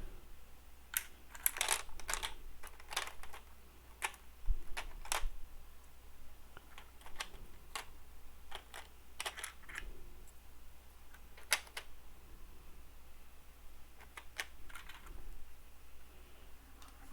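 Custom keycaps click and tap softly as they are set back into a keycap tray one by one, an irregular series of light plastic ticks, close and quiet, over a faint steady hum.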